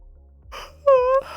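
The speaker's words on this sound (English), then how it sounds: "I keep being unable to finish sentences because I keep yawning." A single drawn-out yawn from one person, a breathy inhale that rises into a strained, tonal vocal stretch held for about a third of a second before trailing off, close and alone with no talk over it.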